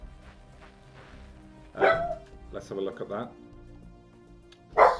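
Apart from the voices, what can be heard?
dog barking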